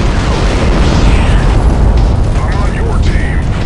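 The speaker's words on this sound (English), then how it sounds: "Red power node destroyed." Power node being destroyed in the video game Unreal Tournament 2004, a loud, dense crackling blast and rumble sustained through the short moment, with a voice speaking over it.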